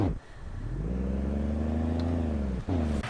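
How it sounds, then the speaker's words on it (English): International Harvester Fleetstar truck engine in Farming Simulator 19, a loud, steady, low droning idle with stacked harmonics that climbs slightly in pitch and dips briefly near the start and end. "I'm already disliking this engine sound"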